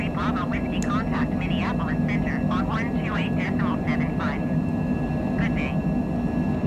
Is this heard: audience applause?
no